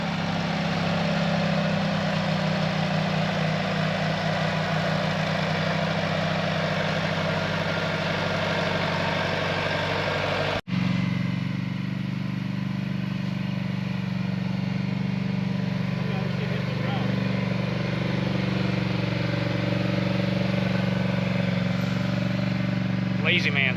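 A four-wheeler ATV engine runs at a steady idle with a low, continuous drone at hunting land, and voices talk over it.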